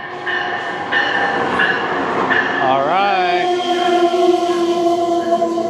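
An Amtrak passenger train pulls into a chilly station platform with a loud horn sounding midway, then a sustained rumble and squealing tones as it slows, close by, with a person briefly speaking over it.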